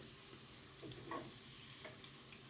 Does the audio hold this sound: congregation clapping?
no